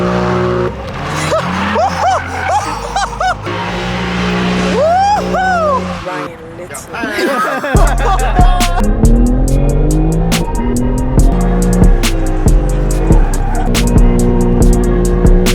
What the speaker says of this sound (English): Dude, I wanna hear the V8.